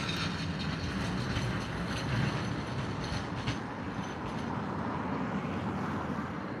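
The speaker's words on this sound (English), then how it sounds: "I'm just waiting for the tram to go past." A tram rolls past on a Blackpool street, a steady close rumble of wheels and mechanism with faint high squeals and clicks running throughout, no voices over it.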